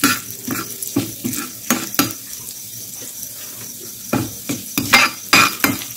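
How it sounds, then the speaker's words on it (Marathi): Moong dal fries in oil in a pan, soft sizzling underneath repeated sharp clinks and scrapes of a spoon stirring against the metal, close and fairly loud, with no one talking. "ही डाळ ब्राऊन होईपर्यंत आपण मस्त फ्राय करून घेऊ।"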